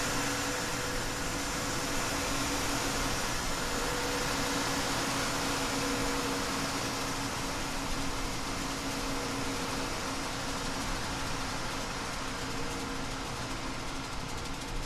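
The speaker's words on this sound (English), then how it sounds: "you can hear the APU" A steady, loud roar of APU exhaust behind a Fenix A320 in Microsoft Flight Simulator, a constant broadband rush with a low hum that holds unchanged throughout, no voices.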